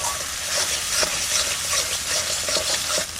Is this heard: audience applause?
no